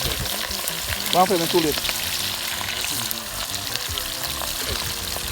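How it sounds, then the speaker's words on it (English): Fish frying golden brown in a pan for stew fish, a continuous close sizzle throughout, with someone speaking briefly over it. "The fish they fry nice golden brown, you see?"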